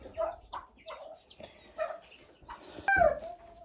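A hen clucks in short repeated calls among her many chicks in a henhouse, with faint peeps and a louder squawk near the end, fairly quiet overall.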